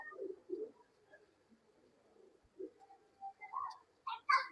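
Pigeons offered for sale in Bangalore give soft, low cooing calls in a quiet, near setting, a few brief coos scattered with faint higher chirps toward the end.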